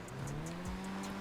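An SSC supercar drives in GTA Online, its engine note a steady, fairly quiet hum that rises slightly in pitch across a short stretch.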